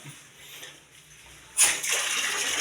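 A household shower, recently fixed after a year of weak water pressure, suddenly bursts on and runs with a strong, steady hiss of spraying water after a quieter start.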